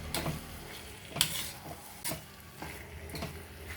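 Masala with boiled ivy gourd is stirred in a pan over low heat, giving a quiet sizzle with a few distinct spatula scrapes and clinks against the pan.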